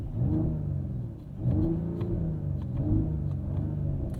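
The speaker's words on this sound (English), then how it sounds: "when you go into sport, it makes the exhaust all loud" A 2022 Mercedes-Benz GLE in sport mode gives a loud, steady exhaust rumble with slight swells in revs, heard up close and alone with no talking.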